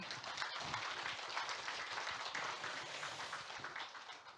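An audience at a CEO talk concert gives a steady wash of applause that stays even and fairly soft, heard from some distance.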